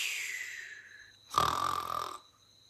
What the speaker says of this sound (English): Does your daddy snore like that?